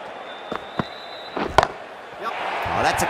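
Crowd roars for a six in Cricket 24, Gujarat Titans against Mumbai Indians, with a few sharp thuds early on before broad cheering swells toward the end, with commentary talk over it.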